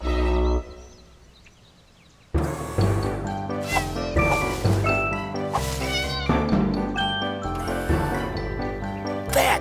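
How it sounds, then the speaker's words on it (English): Cartoon cats meowing in distress as a dog chases them up a tree, several close cries layered over busy background music, with a few scattered jingling accents. "Barky is chasing all my cats into a tree."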